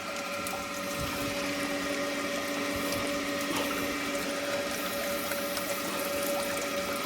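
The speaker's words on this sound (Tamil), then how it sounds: "இதில் வந்து தண்ணி ஃபுல்லாக போகுது" Water rushes steadily through a farm irrigation channel, a constant dense hiss with a low mechanical hum running underneath, no voices.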